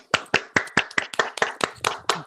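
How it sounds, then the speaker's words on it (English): About a dozen sharp claps in a steady rhythm, close and fairly faint, more like one or a few people clapping than a large audience's applause. "Can we give him a round of applause?"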